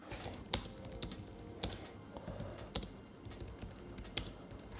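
Typing on an iPad 2 keyboard dock, a Mac-style keyboard: a steady run of light, close key clicks with a few sharper, louder keystrokes at intervals, no voices.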